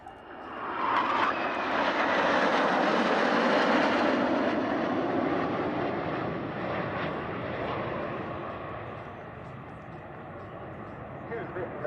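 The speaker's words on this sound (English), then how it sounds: "Here's a bit of information about our F-5 Tiger fighter jets." Twin-engine F-5 Tiger fighter jets of the Patrouille Suisse roar past at an air display, a broad, loud rushing swell that peaks and slowly fades as they pass into the distance.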